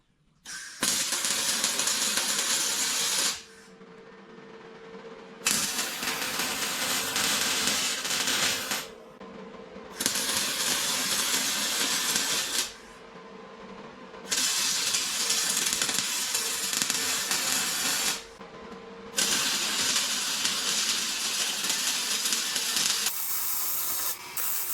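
A steel front bumper on an off-road wrecker is welded in about five sustained, loud, sizzling bursts of several seconds each, separated by short pauses.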